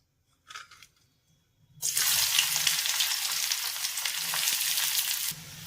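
Loud hot-oil sizzling of a tempering of finely chopped onion and dried red chillies in ghee, for chicken rezala, starts abruptly after a brief faint clink and continues steadily, then cuts off near the end.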